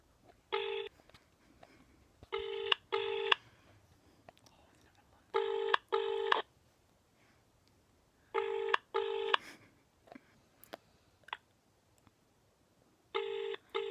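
Telephone keypad being dialed for a prank call to a British pub: bursts of DTMF touch-tones in quick clusters of two or three beeps, separated by short pauses, clear and close with quiet room noise between.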